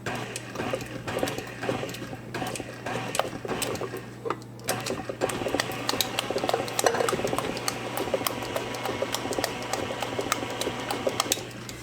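Electric mixer whirring steadily as evaporated milk is blended into pumpkin crunch cake batter, a continuous close motor hum with clicking and rattling against the bowl, briefly dipping around the middle before running on.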